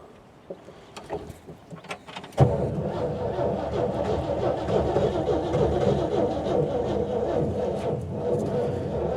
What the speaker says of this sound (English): It also sounds like the starter's about dead.